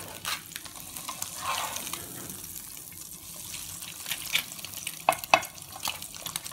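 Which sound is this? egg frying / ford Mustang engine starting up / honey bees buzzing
egg frying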